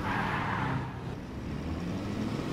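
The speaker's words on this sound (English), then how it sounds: "Sounds like a Whiplash, I think. The new fast car, that's the best car in the game." Whiplash, a fast car in a video game, drives steadily with a continuous engine rumble and road noise for a few seconds, fairly loud with no talk over it.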